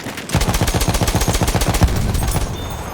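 Rapid bursts of automatic gunfire from Battlefield 1 hammer out loud and close in a steady stream for nearly three seconds, with no pause between shots.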